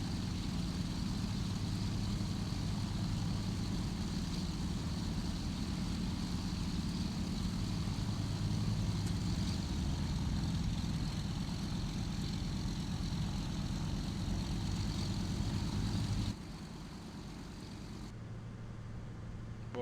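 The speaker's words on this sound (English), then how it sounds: "Taking off in the DC-3 is easy. Just line up with the runway and push the throttle forward all the way." Propeller engine of a DC-3 roars steadily through a takeoff run in Microsoft Flight Simulator X, a loud continuous drone that drops abruptly in level near the end.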